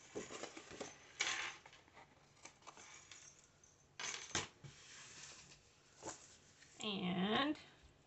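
Scrapbook paper being trimmed on a layout page, with a few short, sharp swishing cuts spaced a couple of seconds apart, close by and moderately loud, and a brief bit of voice near the end.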